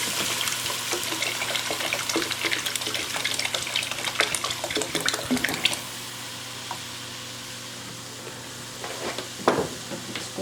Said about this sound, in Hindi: अब मैं इसमें दूध डाल दूँगी